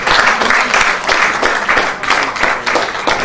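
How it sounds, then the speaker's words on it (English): Applause for a speaker at a conference in Nigeria: a loud, dense round of clapping from an audience that swells and eases in waves and carries on steadily throughout, with no talk over it. "Please, a round of applause for Mr."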